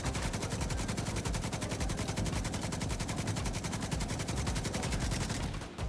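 Sustained light machine gun fire in The Division 2, a rapid, even stream of shots running almost without a break, loud and close, with no talk over it.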